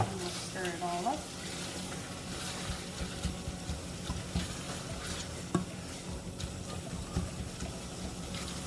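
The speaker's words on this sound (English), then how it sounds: "Stir it all up." Ground beef fries in a pan for lasagna, a soft continuous sizzle with a wet, juicy texture and intermittent stirring scrapes, fairly quiet and close, with faint voice sounds early on.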